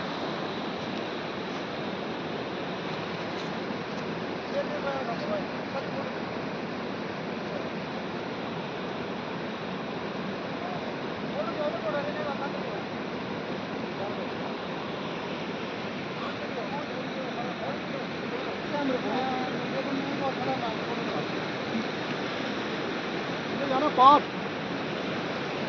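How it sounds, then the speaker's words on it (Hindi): Rushing water and wind fill a Himalayan valley on the Neelkanth trek near Badrinath, Uttarakhand, a steady broad roar that holds level throughout, with faint voices now and then beneath it. "पूरी वैली में पानी और हवा का बहुत ही ज़्यादा आवाज़ है"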